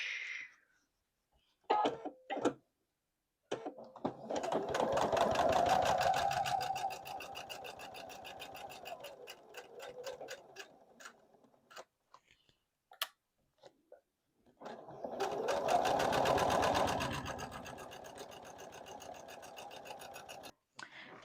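A sewing machine runs in two sustained bursts, stitching a quarter-inch seam on quilt blocks. Steady, fast mechanical whirring is heard, with quiet pauses and small clicks between the runs.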